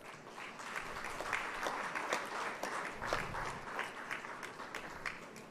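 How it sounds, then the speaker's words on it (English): Applause from a market research conference audience as a speaker walks up to the stage, a steady, fairly faint patter of many hands clapping with slight swells throughout. "I want to hear the applause till he walks up to the stage."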